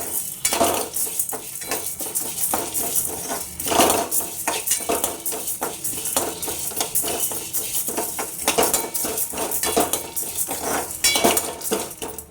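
Ridge gourd peel and peanuts fry in a pan while a metal spoon stirs them, giving repeated close clinks and scrapes against the pan over a soft sizzle, with no talk.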